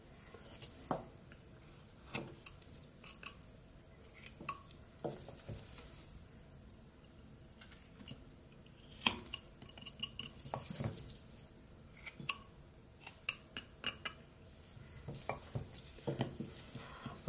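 A knife whittling a wooden gnome, making short scattered scrapes and light clicks as small bits of wood are cut away, faint and close with irregular pauses between cuts.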